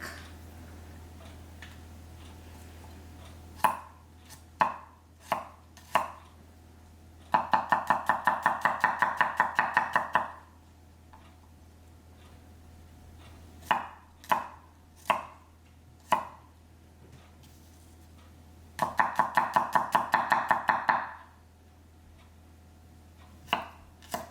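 A knife minces garlic on a cutting board: two bursts of rapid, even chopping, separated by single sharp knocks against the board, close and clear with no talking.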